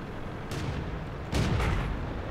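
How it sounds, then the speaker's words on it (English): Tank guns fire in a World of Tanks battle involving a Grosstraktor Krupp, with two sharp booming shots, one around the middle and a louder one soon after, both over a low background rumble with no voices. "I get the feeling our own guys are shooting at us."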